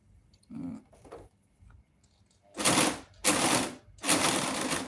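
A serger overlock machine set to roll hem runs in three loud bursts of rapid stitching, each about half a second long, after quieter handling sounds.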